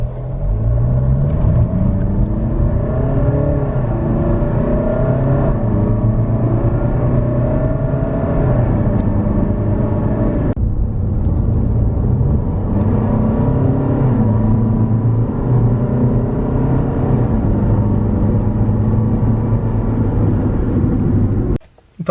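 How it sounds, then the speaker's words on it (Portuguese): A Jeep Renegade 2.0 diesel TrailHawk driving at steady speed, its low engine drone and tire roar continuous and loud throughout, with engine pitch rising and falling gently as it goes, and a brief dip near the end. "você acaba ouvindo um pouco mais barulho do pneu do que do motor"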